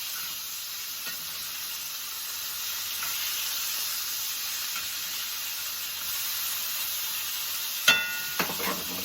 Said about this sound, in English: And I hear my sausage over there.